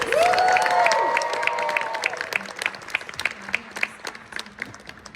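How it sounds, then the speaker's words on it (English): Broadway theater audience breaks into applause, dense clapping with a cheer at the start, then the clapping thins and fades over a few seconds. "Can we give it one more round of applause?"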